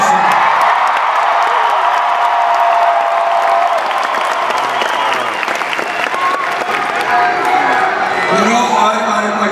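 A large crowd at a political rally speech at Boise State University in Boise, Idaho, applauds and cheers steadily, a dense wash of clapping with scattered whoops that stays loud throughout.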